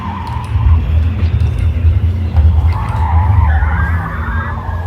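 In a racing video game, car tires skid and squeal as the brakes lock up, a loud rumbling screech over the engine drone lasting several seconds.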